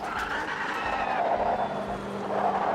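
A Porsche race car in Automobilista 2 in an IMSA race, its engine droning steadily close by with rising and falling pitch and a hint of tire scrub, no talk over it.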